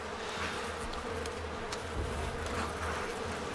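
Bees in Far Cry 5 give off a steady, continuous buzzing drone that stays close and fairly loud throughout, with no voices over it.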